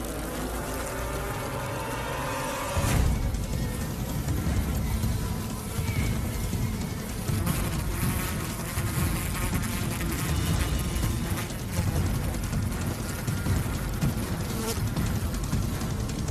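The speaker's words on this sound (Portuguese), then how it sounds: "as abelhas dominam a invasora, mordendo e ferroando a vespa várias vezes." A dense, close buzzing of many honeybees swarming and stinging an Asian giant hornet, a frantic swarming drone that thickens abruptly after a few seconds and keeps churning without pause.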